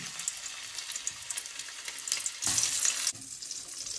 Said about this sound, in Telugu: నేను కొంచెం ఉప్పు చేపను కూడా తయారు చేస్తున్నా ఇక్కడ చూడండి ఆయిల్ బాగా కాలింది